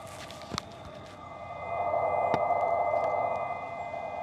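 A salvaged Chevy Bolt EV, switched off, keeps sounding its pedestrian warning tone from a hidden speaker. It is a steady, moderately loud electronic hum that swells after a couple of seconds, with a few faint clicks and no talking.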